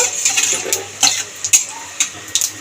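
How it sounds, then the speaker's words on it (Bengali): Whole cumin and a bay leaf fry in hot oil as a tempering for a fig curry, with a soft steady sizzle and sharp intermittent clinks of a spoon stirring against the pan, close and without talk. "ফোড়নটাকে নেড়ে চড়ে ভেজে নেব"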